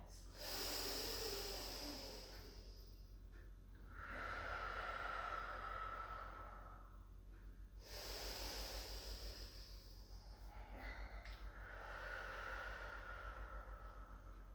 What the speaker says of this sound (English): Again, 3 really deep breaths.